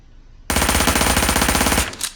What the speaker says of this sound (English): That was 20 rounds, 30 meters total mag dump.